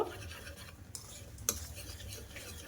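A semolina batter with Eno is stirred in a bowl, giving soft, wet scraping swirls with a couple of light utensil clicks, close up and quiet, with no talking.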